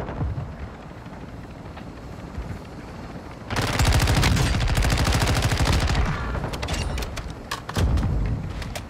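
Gunfire in a shooter video game: a steady low rumble of distant fire breaks into a long, loud burst of rapid automatic shots, then trails into scattered single shots before another heavy volley near the end.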